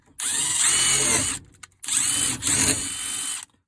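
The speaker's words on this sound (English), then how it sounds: "what I like to do is pre-drill the brackets" A power drill whines loudly in two bursts while pre-drilling a metal bracket, the second dipping briefly mid-run, close by and without any talking.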